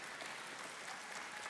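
An audience applauds in a church setting, a steady wash of clapping throughout a short, faint stretch.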